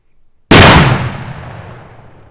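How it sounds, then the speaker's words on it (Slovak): Large New Year's Eve firecracker exploding in an open meadow, one sudden, very loud blast that rolls off into a long, fading rumble. "Zaujímavý výbuch, bolo tam dosť veľa ohňa, takže neviem, či všetok ten prach vybuchol"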